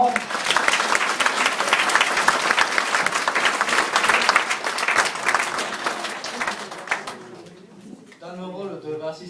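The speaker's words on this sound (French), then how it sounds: "On les applaudit encore." Theatre audience applauding performers at a French comedy sketch show, a dense, loud wash of clapping that tapers off, followed by a voice speaking at the end.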